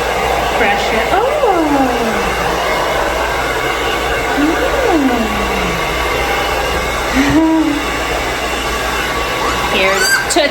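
A hair dryer on a very light setting blows steadily on a wet puppy after its first bath, a constant close whoosh running the whole time, with high yips and whimpers and a person talking softly over it.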